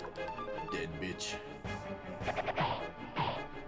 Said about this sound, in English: Imagine just smashing a fucking bunny rabbit in the face with a tonfa